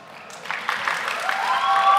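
A crowd claps steadily at a medical conference, building slightly in density, with a few sustained tones rising near the end.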